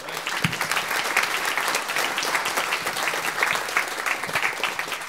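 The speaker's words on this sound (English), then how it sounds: "Let's give the Lord a round of applause." Sustained applause from a church congregation fills the room for about five seconds, dense steady clapping with no one speaking over it.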